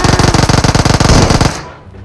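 Rapid automatic gunfire in PUBG Mobile rattles off in a fast burst of loud, evenly spaced shots lasting over a second, then cuts off to quiet.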